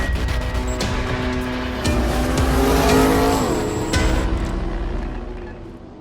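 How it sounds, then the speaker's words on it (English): A 2026 Chevrolet C8 Corvette Z06 with twin turbos running on 93 octane fuel, its engine roaring near and loud as the revs rise and fall, with tyres squealing on the street and no talk. "Corvette Z06 twin turbo. That's right, we strapped 2 turbos on this bad boy."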